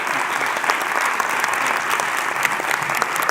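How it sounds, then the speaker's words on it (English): An audience applauds a panel at an arts symposium on women in the arts, steady dense clapping from a sizable crowd, continuous and fairly loud throughout with no talking over it. "could we please give them a terrific round of applause?"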